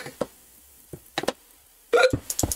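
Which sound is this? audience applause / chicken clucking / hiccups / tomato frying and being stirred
hiccups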